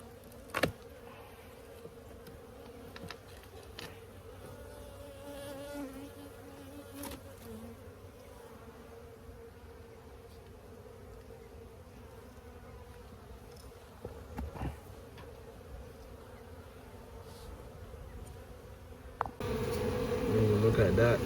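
Bees from a hive built inside a tire drone in a steady, soft buzz that carries on throughout, with occasional knocks and handling noises. Near the end a louder burst rises as the hive is disturbed.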